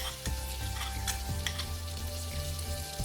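Chopped ginger and a dried red chilli fry in melted butter in a kadai, a steady close sizzle broken by a few scraping stirs of a spoon, with no voices.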